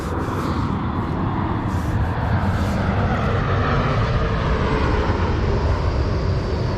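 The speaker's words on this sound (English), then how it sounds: "Bloody aeroplanes." A steady, loud propeller aircraft drone fills the whole clip, a continuous low rumble with no talking.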